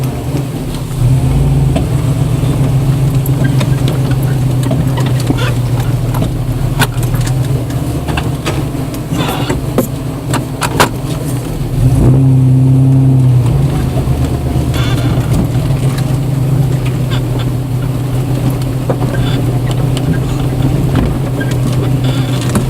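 A 4x4 vehicle crawls along a tight off-road trail at the Broome Tioga Sports Center, its engine droning steadily and loudly throughout with a brief rise in revs partway through.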